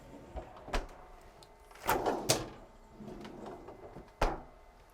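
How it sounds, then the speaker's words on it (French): Freezer drawers on a Jeanneau 64 yacht sliding open and shut, a few soft clunks and sliding thumps spaced through a quiet interior. "on a un grand frigo en haut et deux freezers en tiroir."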